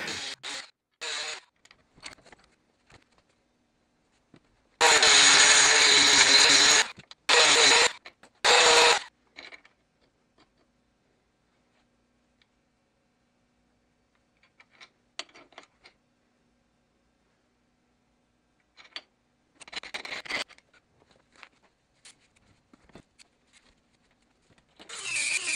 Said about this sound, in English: I'm going to grind it out just like the last one